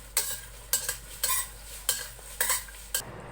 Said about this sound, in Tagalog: The dried chilies, we need to roast it until the aroma is come out